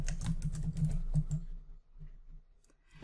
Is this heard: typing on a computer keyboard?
yes